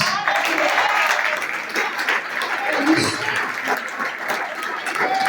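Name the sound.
congregation applauding in church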